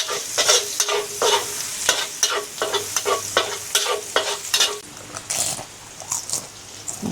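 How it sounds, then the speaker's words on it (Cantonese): Pork stir-fried with minced garlic in a wok makes a loud, close sizzle broken by rhythmic scraping strokes of the spatula, repeating steadily for several seconds before easing slightly toward the end. "爆香嗰啲豬肉"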